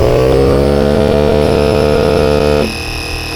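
Two rechargeable inflation pumps, a Top pump and an AIRBANK Pulse Pro, run side by side inflating a kayak or SUP paddleboard, a loud, steady motor drone that drops sharply near the end as one unit stops and the other keeps whirring.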